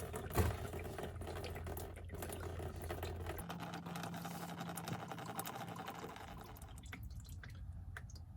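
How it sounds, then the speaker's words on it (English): Diesel fuel drains from a Jeep Grand Cherokee WK2 diesel fuel filter as its last few drops fall, soft dripping and trickling close by with a low steady hum underneath and no voices. "Just the last few drips there coming down."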